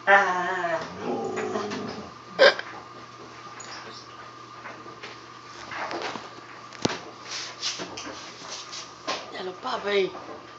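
Husky dogs play-fight with a puppy, making growls, whimpers and yips at close range, with someone talking over them throughout.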